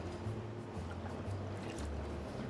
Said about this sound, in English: We will have here some boiling water